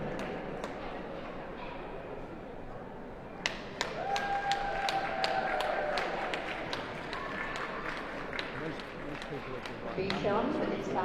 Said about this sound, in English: That's right, plenty of applause.